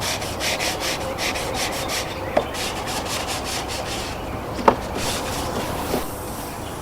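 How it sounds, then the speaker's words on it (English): Steady rhythmic rubbing strokes of a sanding sponge worked back and forth over wooden upper cabinets, with a couple of sharp knocks in between. "So we're just going to finish it up with a sanding sponge."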